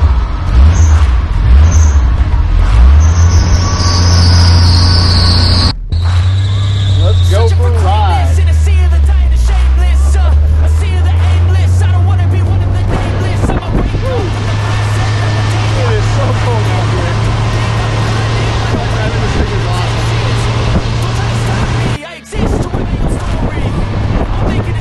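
A Jeep CJ driving with its windshield fitted makes a steady, loud engine drone with wind buffeting across the microphone, while people talk over it throughout.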